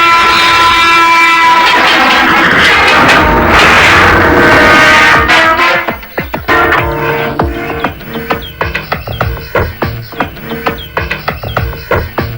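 A train runs along a railway track, first a loud, heavy rumble, then a rhythmic clatter of wheels over rail joints as the cars roll past close by.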